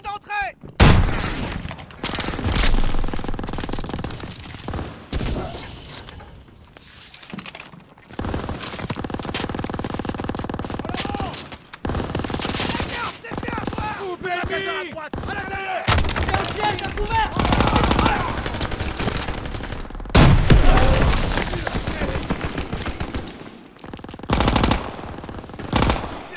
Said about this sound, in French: Mitrailleuse, restez pas dans la rue!